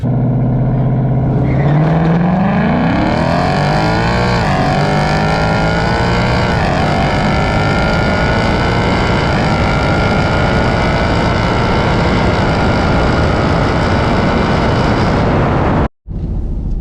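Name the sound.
2024 Mustang GT drag racing a Scat Pack at a dragstrip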